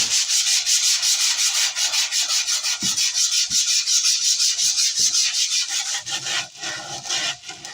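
Rapid rhythmic scratching of coarse 60-grit sandpaper rubbed back and forth along the grain of a wooden lazy Susan, loud and close, continuing steadily with brief pauses near the end.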